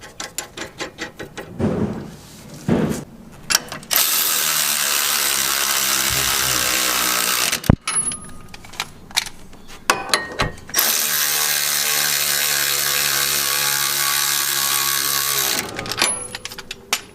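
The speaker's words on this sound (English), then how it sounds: "that's exactly what I'm going to do with this torque wrench right now" A torque wrench ratchets as sway bar end link hardware on a Mazdaspeed 6 rear sway bar is tightened with GR86 end links, giving bursts of loud mechanical clicking and whirring with brief pauses between runs, close up and without talk.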